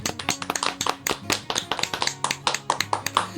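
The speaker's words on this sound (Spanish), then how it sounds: "Por favor, aplauso para nuestra audiencia." A small podcast studio audience claps in sharp, separate, irregular bursts, each hand strike distinct and close, with a faint tonal backing underneath.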